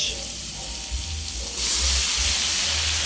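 Garlic, onions and blanched vegetables fry in a hot wok for pancit canton, giving a steady close sizzle that grows louder and brighter partway through.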